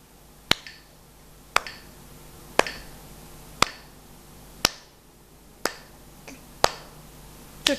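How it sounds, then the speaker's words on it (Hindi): Crisp finger snaps at a steady one-per-second beat, eight sharp clicks in a row, close and clear over a quiet background during a children's rhythm lesson. "चुटकी भी बजानी है"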